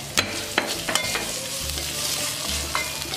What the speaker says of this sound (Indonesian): Kita tumis sampai layu ya.